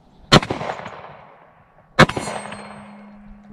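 A Smith & Wesson M&P 10mm pistol fired outdoors during a function test, with two loud, sharp gunshots about 1.7 seconds apart, each trailing off in a long echo.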